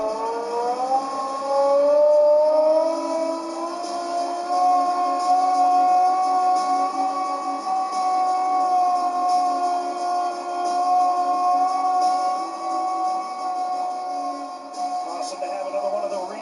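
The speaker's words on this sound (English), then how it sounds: "who's going to crank up the siren tonight" A siren is cranked up in a hockey arena before a Canucks versus Oilers game, its rising wail holding a long steady howl with harmonics, loud and sustained before tailing off, with crowd noise beneath.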